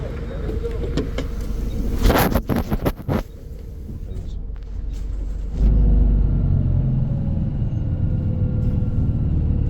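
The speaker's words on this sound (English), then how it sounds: "The bus is here." A city bus on route 360 pulls in on a Tbilisi street, its engine rumble rising and holding low and steady near at hand, with some clattering street noise and voices early on.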